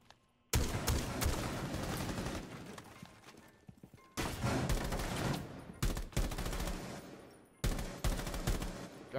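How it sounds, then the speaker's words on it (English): Bursts of automatic gunfire in Rainbow Six Siege, loud rapid volleys separated by brief gaps of near silence, with dense rattling shots and thumps. "Why the fuck are you shooting in here?"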